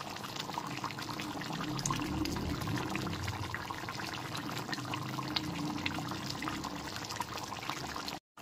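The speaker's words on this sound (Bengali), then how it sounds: "এরপর এর মধ্যে হাফ গন্ধরাজ লেবুর রসটা একবার দিয়ে দিচ্ছি।" Half a gondhoraj lemon's juice trickles into chicken gravy in a pan, a soft, steady pouring and dribbling close by, quiet and unbroken until it stops abruptly at the end.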